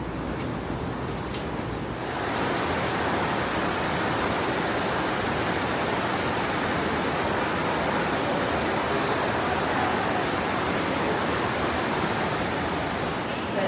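Inside the Waitomo glowworm caves in New Zealand, a waterfall makes a dense, steady rushing roar that swells slightly after the first couple of seconds and continues unbroken.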